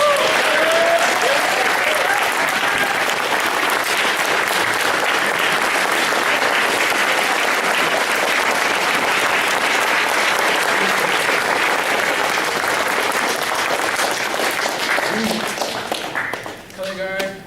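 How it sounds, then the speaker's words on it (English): A sustained round of applause for newly honored Eagle Scouts at a Court of Honor ceremony, dense crowd clapping holding loud and steady for many seconds before tapering off at the end. "Let's give our newest Eagle Scouts one more round of applause"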